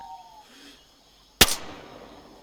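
An explosion in DayZ: a single sharp blast cracks out suddenly after a quiet stretch, then a short rumbling decay, with faint electronic tones before it.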